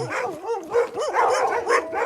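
Sled dogs at a kennel whimper and give short yipping barks in a rapid, continuous run of whining cries, close and fairly loud, with no talk.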